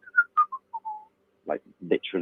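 A person whistles a short series of wavering notes in imitation of an eerie whistling heard in a haunted place, followed by a few spoken words.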